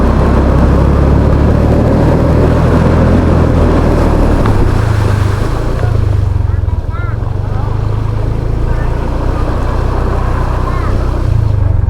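A motorcycle engine drones loudly while churning through deep flood water after rain, with a continuous splashing rush around it throughout.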